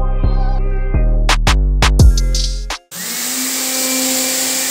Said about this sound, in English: The fan is too powerful and literally sucked the paper and tearing apart.